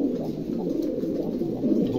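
A pair of pigeons sitting on eggs coo in a continuous low, throaty murmur, close and moderately loud with no other sounds.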